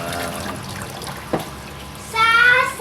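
Pork is rinsed and scrubbed clean in water, with soft splashing followed by a louder gush of running tap water near the end, alongside a speaking voice.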